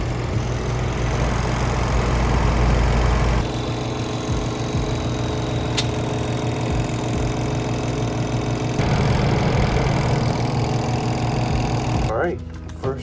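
A small portable washing machine runs its spin cycle, a steady loud motor hum with rattling and whirring that holds evenly for about twelve seconds before winding down at the end.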